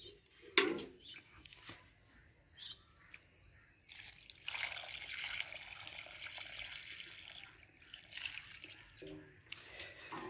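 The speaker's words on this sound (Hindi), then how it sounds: "अब इसमें पानी डालेंगे हम।" Water is poured into a cooking pot holding meat, pumpkin, onion and green chilli, a soft uneven trickle and splash that rises in the middle and continues at a low level, with faint outdoor background sounds.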